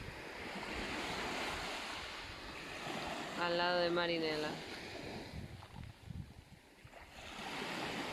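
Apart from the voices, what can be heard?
sea waves on Metaponto beach, Ionian Sea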